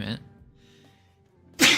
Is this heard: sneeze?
yes